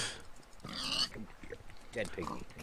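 A pig in Minecraft grunts a few times, the game sounds mixed under players chatting over one another.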